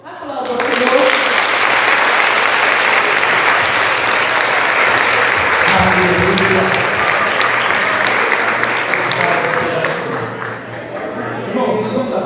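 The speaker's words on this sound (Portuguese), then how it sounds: "Aplauda o Senhor." A church congregation at a leadership seminar breaks into long, loud, sustained applause that fills the hall, with voices and some tonal sounds mixed in before it tapers briefly near the end.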